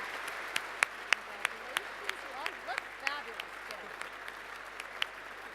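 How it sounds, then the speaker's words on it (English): Applause rises at a benefit dinner honoring the fellows, a steady wash of clapping from a seated crowd in a large room, with a few sharper close claps and light murmuring voices underneath. "let's give them one more round of applause for these remarkable young people"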